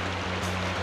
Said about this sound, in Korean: 간밤에 내린 비로 계곡의 물살이 제법 거칠어진 겁니다